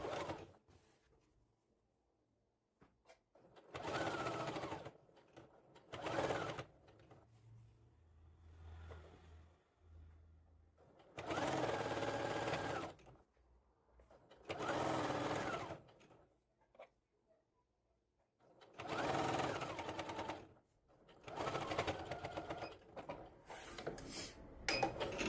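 A sewing machine stitches along the edges of a fabric table runner in several short bursts of whirring, separated by quiet pauses with soft handling noises in between.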